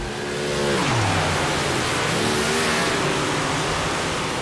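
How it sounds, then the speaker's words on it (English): Big Block race car engines at Eldora in iRacing, loud and close, holding a steady roar with rising and falling pitch as the cars rev, no voices on top. "Cars are loud as hell."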